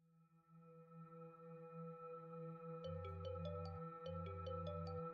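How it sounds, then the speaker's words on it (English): A phone rings in the video game Urban Myth Dissolution Center, over a steady ambient music drone. Two repeated bursts of bright, pulsing ring tones arrive partway through, with no voices. "Phone call? Ooh, scared me. Just a call."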